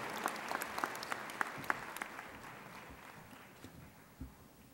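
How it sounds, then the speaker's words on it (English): Audience applause at a high school graduation, a moderate round of clapping with a few sharp individual claps standing out early, then fading gradually. "can we give them another round of applause?"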